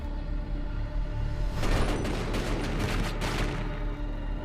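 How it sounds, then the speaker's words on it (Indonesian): Police gunfire in an action movie, a brief volley of sharp shots clustered in the middle over a low steady background score, with quieter ambience before and after. "Sementara Jojo yang menunjukkan tanda-tanda perlawanan langsung ditembak mati oleh para polisi."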